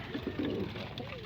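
Racing pigeons coo briefly, soft low throaty coos close by with a voice in the background.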